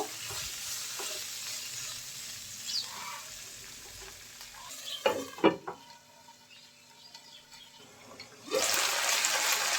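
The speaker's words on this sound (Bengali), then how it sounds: "তেলের মধ্যে এখন বরবটিগুলো দিয়ে দেব বরবটিগুলো ভেজে নেব" Yardlong beans frying in hot oil, a steady close sizzle with a few sharp clatters and stirring scrapes in the middle, then a sudden louder surge of crackling near the end.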